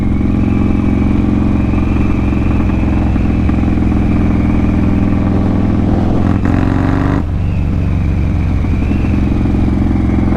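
A vehicle engine drones steadily and loudly while speeding down Sherman, holding a constant roar with a brief shift near the end and no talk over it.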